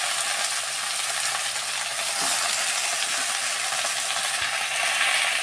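Mixed vegetables with pumpkin, taro stems, potato and Malabar spinach sizzle in a pan as they are stirred, a continuous close hiss with occasional light scrapes and knocks, no voices.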